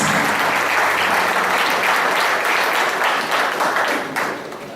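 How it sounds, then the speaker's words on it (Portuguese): A church congregation breaks into loud, sustained applause, a dense wash of many hands clapping close by, easing slightly toward the end. "celebre a Deus com seu aplauso pela vida da Leila, pela vida do Max"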